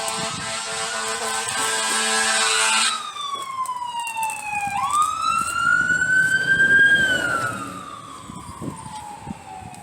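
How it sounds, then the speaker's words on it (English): Emergency vehicles race along the road with wailing sirens, a loud warbling tone sweeping down then rising again as they pass nearby, with traffic rumble underneath. "the emergency vehicles go blasting down the road right when I'm recording"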